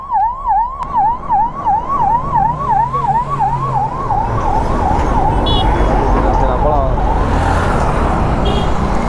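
A police vehicle siren wails in a repeating up-and-down cycle as it arrives at a bike accident scene on a road, loud and close at first, then fading under growing traffic and engine rumble.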